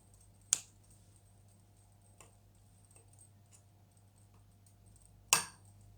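Thread ends on a crocheted headband are snipped off with scissors: two sharp, close snips a few seconds apart with faint ticks between, in an otherwise quiet room.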